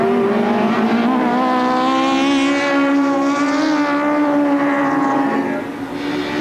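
Saloon racing cars roar past at Thruxton circuit, a loud, sustained engine howl whose pitch rises and bends as they push through the chicane, with a Ford Escort locking its front wheel under braking.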